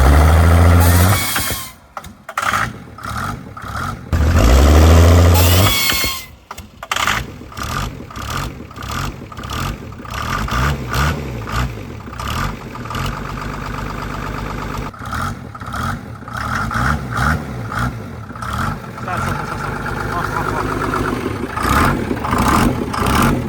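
A Mercedes diesel engine fitted with a huge budget turbo and fed nitrous is revved hard, loud rising and falling bursts with sharp surges that settle into a rough, sustained roar.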